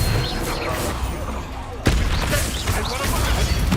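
In the Hogwarts Legacy video game, a Confringo fire spell detonates as a sharp mid-clip burst amid ongoing combat noise, with a voice talking over the action.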